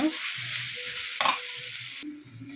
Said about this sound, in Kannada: ಇದನ್ನು ಚೆನ್ನಾಗಿ ಒಂದು ಎರಡು ನಿಮಿಷ ಫ್ರೈ ಮಾಡ್ಕೊಳ್ಳೋಣ